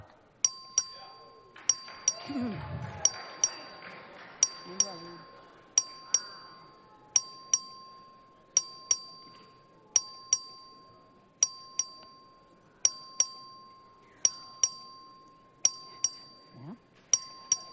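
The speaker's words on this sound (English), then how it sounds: "The clerk will ring the bell." A legislative chamber's voting bell at the Texas House rings in a steady series of sharp, bright dings, roughly one per second, over faint room murmur and a low thump.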